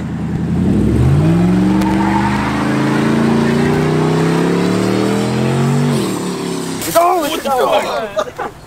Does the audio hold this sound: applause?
no